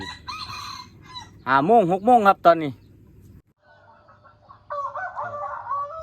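A rooster crows loudly nearby in a rising, drawn-out call, set between stretches of someone talking, with a further clucking fowl sound near the end.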